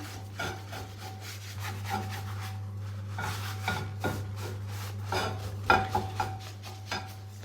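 Oil is rubbed over a cast iron skillet to season it before first use, making soft repeated rubbing and scraping strokes close by over a low steady hum, with no talk.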